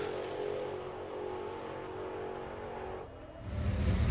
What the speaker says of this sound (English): just listen to the engine note as it goes up and down as the tyres spin and grip on the track